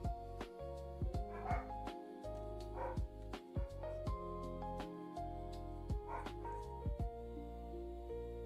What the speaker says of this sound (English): sorry you gotta hear the dogs going.